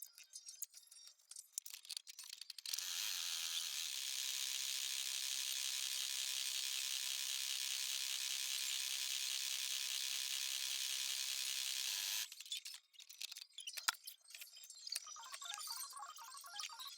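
An embroidery machine stitching out foot placement markers for a plush toy, running with a steady, even whirring and rapid mechanical chatter for several seconds between quieter stretches of light clicks and handling.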